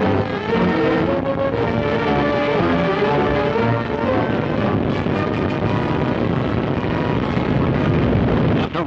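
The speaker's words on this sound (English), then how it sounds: "the three-stage 72-foot rocket loses its thrust" A three-stage 72-foot rocket roars at launch and loses thrust, a loud, dense, continuous rumble with wind-like noise that holds steady throughout, close and alone.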